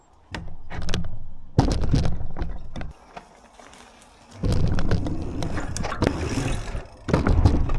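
A bike rolls up and over a massive seesaw with a camera fixed to its end, giving loud close clunks, rattles and knocks in bursts separated by a quieter stretch.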